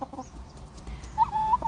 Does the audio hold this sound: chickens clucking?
yes